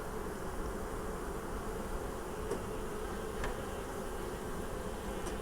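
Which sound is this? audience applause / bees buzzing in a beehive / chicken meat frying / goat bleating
bees buzzing in a beehive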